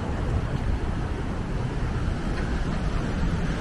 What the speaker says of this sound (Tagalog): ang lakas talaga ng hangin kapag ka ito yung ano, Peninsula Hong Kong